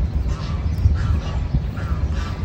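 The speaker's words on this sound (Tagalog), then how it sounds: "So ayun may mga itik doon at gansa" Ducks and geese in a park honk and quack intermittently at a moderate distance over a low rumbling background.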